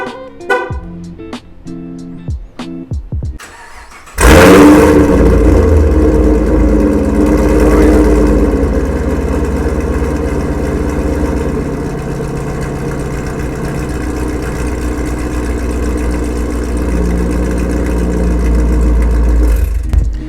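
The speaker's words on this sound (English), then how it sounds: "So this will be the first startup. It's not a cold start because I drove the car a little bit ago, but it'll be loud enough." A Pontiac G8 fitted with a Solo axle-back exhaust cranks over and fires into a loud, close-up idle: a few quick starter pulses, then a sudden burst as the engine catches, settling into a steady, deep rumble.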